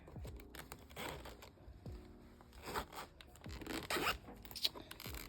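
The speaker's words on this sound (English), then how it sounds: "Got a zipper." A zipper on an A6 binder is pulled open in several short rasping runs, close and fairly quiet, with light handling rustles between them.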